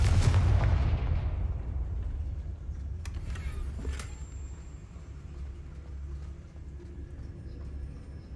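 A Confringo fire spell in Hogwarts Legacy lands as a loud booming blast at the start and fades into a rumbling tail, with a couple of sharper crackling hits about three to four seconds in.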